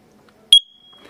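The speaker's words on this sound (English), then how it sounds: "you should periodically test your smoke alarm on a regular basis. So I'm going to go ahead and push my test button." A First Alert hardwired smoke alarm gives a single short, sharp high-pitched chirp when its test button is pressed, with a thin tone trailing off in an otherwise quiet room.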